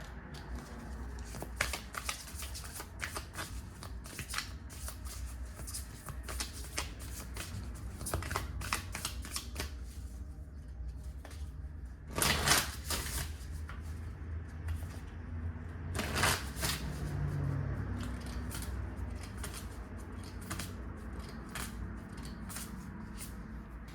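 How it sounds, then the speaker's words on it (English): Rose Oracle cards shuffled by hand: repeated crisp riffling bursts and soft card slaps in an irregular rhythm, close and fairly quiet, with no talking over them. "Let me grab one more oracle card before I move on."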